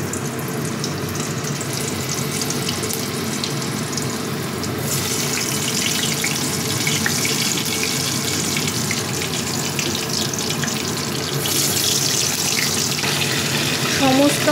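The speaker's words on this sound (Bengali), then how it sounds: "এবার আলুগুলোকে আমি ভেজে নেব।" New potatoes frying in oil give a continuous rushing hiss that swells louder partway through, close and steady with no talking.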